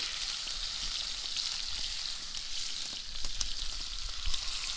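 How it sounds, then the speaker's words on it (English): Steak seasoned with Santa Maria style seasoning sizzles steadily in a frying pan at a campsite, a dense, close crackle with scattered sharper pops, heard alone without talk. "Go ahead and flip the steak."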